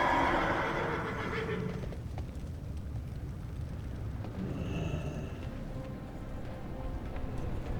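Mounted horse in World of Warcraft at The Obsidian Sanctum, a neigh up front followed by a continuous rumble of riding and hoofbeats under game ambience.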